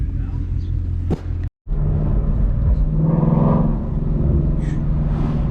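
A car fitted with newly installed BMR lowering springs drives along, its engine and road rumble steady and close throughout, with a brief dropout partway through before the low drone resumes.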